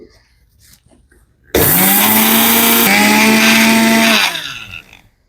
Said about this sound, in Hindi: ये खसखस और रहेगी, इसको और पीस लेते हैं